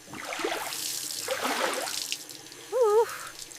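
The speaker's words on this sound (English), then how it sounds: "Rinse with water." Tap water runs and splashes while a cutting board is rinsed in a kitchen sink, giving uneven close splashing and trickling bursts, followed by a short tonal sound near the end.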